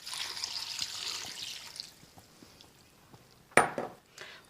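Soy sauce poured into a metal mixing bowl for a beef stir-fry marinade: a close, hissing trickle that runs for about two seconds, then quiet, then a single bright metallic clank.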